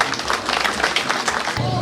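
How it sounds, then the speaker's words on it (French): Audience applause at a school excellence awards ceremony in Bamengui, a steady wash of many hands clapping throughout, fairly loud and continuous, ending abruptly with a low hum. "Je souhaite ici un tonnerre d'applaudissements pour tous ces partenaires."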